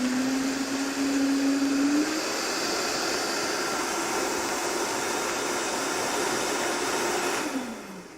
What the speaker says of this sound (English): I don't talk while the blender's running